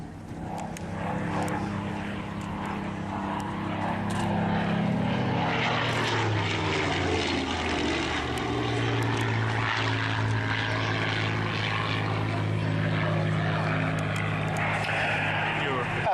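A Rolls-Royce Merlin-engined propeller warplane drones loudly and steadily throughout, its engine rumble holding strong while a voice talks over it.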